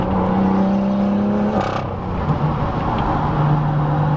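A 500 hp BMW M2 lets off the throttle, its engine tone dropping as the exhaust gives a rough, burbling crackle, loud and close from inside the car.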